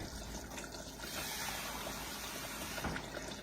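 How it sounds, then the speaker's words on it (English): Little water poured into thick gravy, a soft continuous trickle and pour, faint and steady with a slight swell near the end, heard alone. "we're going to add a little water to it"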